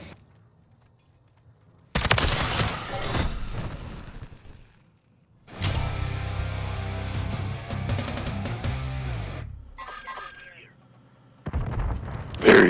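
In a first-person shooter video game, a cruise missile strike sets off heavy booming blasts and explosions in two long bursts. Quieter gaps fall between them, and a further loud burst arrives at the end.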